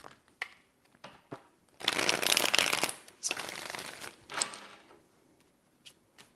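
Tarot deck shuffled close by, starting with a few light taps and flicks, then a sustained riffling burst followed by softer shuffling that fades into scattered clicks.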